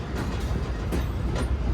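A Pak Business Express train at a station platform gives a steady, loud rolling rumble with faint metallic clatter running throughout, and no voices.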